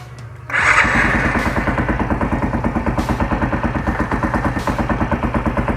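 A motorcycle engine fitted with a side-gapped spark plug starts up and settles into a steady, loud idle with a rapid, even pulsing rhythm close by, no talk.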